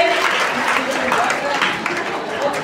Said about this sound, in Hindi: बच्चों तालियां बजाकर उस्मान की हौसला अफजाई करें